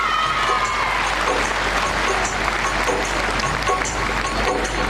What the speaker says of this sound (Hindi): आप 2 हाथ उठाकर तालियां तो बता सकते हैं उनके सम्मान में